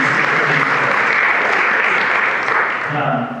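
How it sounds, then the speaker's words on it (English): A large audience at an annual meeting applauds, a dense, loud, continuous wash of clapping that tapers slightly at the end. "give yourselves a round of applause for how you give"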